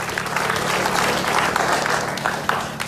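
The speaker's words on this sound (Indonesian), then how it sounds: "Tepuk tangan dulu dong" Studio audience applause during an Indonesian comedy talk show, a steady wash of clapping at moderate level for about three seconds, with a few sharper individual claps standing out.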